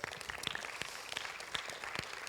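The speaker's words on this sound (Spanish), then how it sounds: "Den un aplauso al Señor." A church congregation claps in praise during a Spanish-language service, a fairly quiet patter of scattered, irregular claps that continues briefly.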